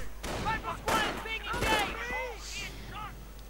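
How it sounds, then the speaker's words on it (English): MG42 machine gun fire in a World War II strategy game comes as distant rapid bursts and scattered shots over a busy battlefield, partly under a voice speaking. "MG42 making things a bit hot for this dandy Yankee sniper"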